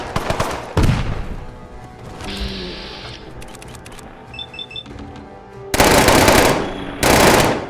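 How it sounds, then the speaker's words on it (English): Gauss rifle fire in a post-apocalyptic video game: loud, close bursts of rapid gunfire with sharp cracks, separated by quieter mechanical clicks and beeping interface tones. "Seems like a Gauss rifle."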